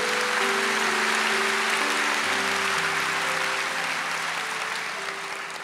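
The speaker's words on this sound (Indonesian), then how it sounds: "Sekali lagi berikan sambutan tepuk tangan yang paling meriah." Sustained applause from a crowd at the inauguration of a church rooftop venue fills the space evenly and steadily, with a sustained musical tone underneath as it slowly fades.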